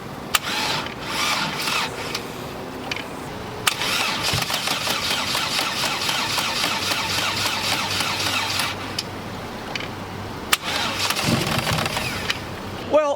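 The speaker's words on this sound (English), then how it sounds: "Now, let's see if we can't fire this bad boy up." A Chevy Cruze turbo engine cranks repeatedly with a whirring starter, loud and close, stopping and restarting without clearly catching.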